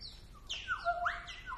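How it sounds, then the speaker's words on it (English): Synthetic bird-like chirps and sweeping whistles produced with music effect units such as delay, several gliding tweets in quick succession at moderate volume, alone. "You can even make bird sounds."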